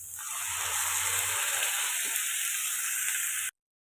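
Ground paste for tomato kurma hits a hot pan and sizzles in a loud, steady hiss that holds for a few seconds before cutting off abruptly.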